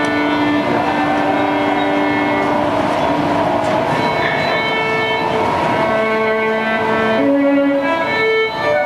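Train noise at a Washington, D.C. metro station captured on CCTV, a steady loud rumble with sustained horn-like tones and rising pitches running throughout, with no voices.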